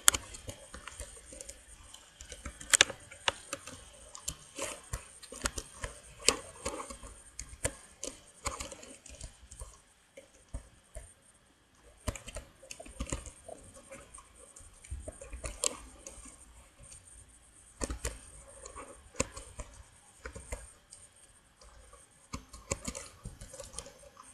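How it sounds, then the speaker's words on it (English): Keys clatter on a computer keyboard in uneven bursts of quiet typing, with short pauses between flurries and no voices. "I won't talk while I'm typing because the typing sounds really loud"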